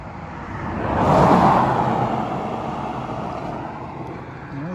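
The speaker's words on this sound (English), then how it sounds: "Gotta let this car pass." A car passes on a rural road near Evergreen, Alabama at night, its tire and engine noise swelling to a peak and then easing off as it moves away, with steady outdoor background.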